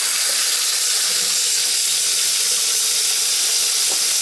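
Water runs hard from a freshly repaired Delta bathroom faucet with a new spindle, a steady, close, bright rushing hiss with no breaks.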